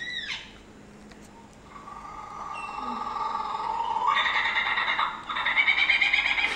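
A mimic bird that copies the calls of at least 20 species runs through a string of varied whistles, trills and chirps, shifting from one call type to another against steady background noise.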